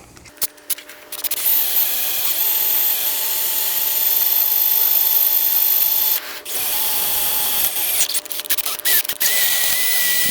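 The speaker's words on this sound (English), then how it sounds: "I'm going to switch over to just a standard drill bit, and I'm going to go to 3/16" A power drill with a 3/16 bit whines at high speed drilling out broken muffler screws on a Homelite chainsaw, briefly stops, then restarts in short bursts, close and loud.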